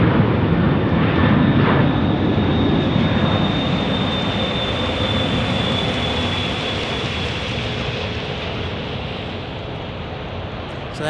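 An airliner departs Phoenix Sky Harbor International Airport for Denver. Its engines make a steady, loud, broad roar with a thin whine on top, and the roar slowly eases as the plane moves away.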